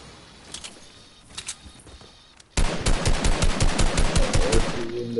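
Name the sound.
gunfire in a video game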